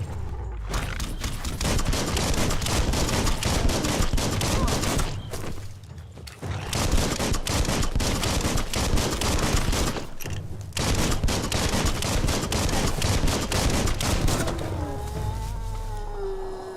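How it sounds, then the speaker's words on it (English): Dense, continuous gunfire from the action game Biomutant, rapid shots piling up loudly almost without pause, with a brief lull near the middle and a whistling tone near the end. "Bullets everywhere."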